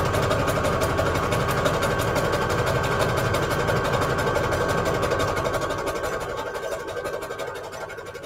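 Sewing machine stitching a strip of lace, a steady close mechanical whirr with fast regular needle beats that softens slightly toward the end.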